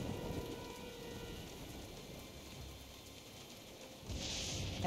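Steady rainstorm in the Jurassic Park game, a dense even hiss of rain pouring down throughout, swelling a little louder near the end.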